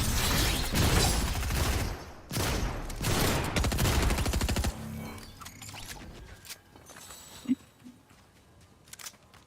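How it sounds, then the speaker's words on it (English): Gunfire in the video game Crysis 2, loud bursts of rapid automatic shots for several seconds, then fading to scattered quieter distant clicks and a couple of faint thuds. "Somebody's shooting."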